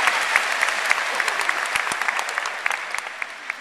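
A graduation audience in 2011 claps in a close, lively burst, with sharp individual hand claps standing out from a steady wash of applause that slowly thins.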